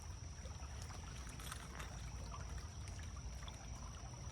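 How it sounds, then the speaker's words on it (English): Water from wet trees trickling and dripping steadily beside Willoughby Run near Gettysburg after rain has stopped, a constant soft patter with scattered louder drops over a low running-water wash. "Just water from the trees, not raining."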